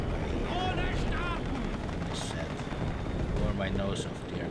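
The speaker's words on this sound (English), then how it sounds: "that is a chopper" A helicopter flies in a video game, a continuous rumbling rotor drone with wind-like noise throughout, while a person talks over it.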